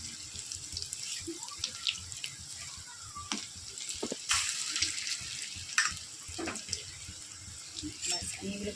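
Chicken pieces drop one by one into hot oil, giving a steady, crackling sizzle broken by sharper pops and splutters. The frying stays close and fairly quiet throughout.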